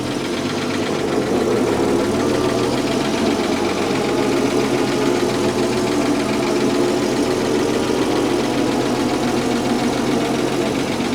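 A wedding bus's engine drones steadily and loudly while driving, a continuous low rumble with no breaks and no talking.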